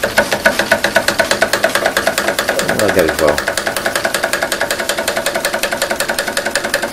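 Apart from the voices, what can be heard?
Stuart Turner beam engine running on live steam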